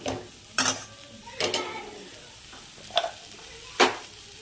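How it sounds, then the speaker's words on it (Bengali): Green peas frying in a wok-style kadai with potatoes, a few sharp stirring clatters and scrapes of a utensil breaking over a faint, steady sizzle, no voices. "এবার আমি এই কড়াইশুটিগুলো দিয়ে দেবো কড়াইশুটিগুলো একটু ভাজা ভাজা হয়ে আসবে"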